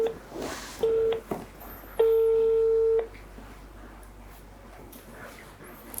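A telephone call being dialed for a studio quiz show: short steady dial tones, the longest lasting about a second, with brief tone bursts between them over a faint room background.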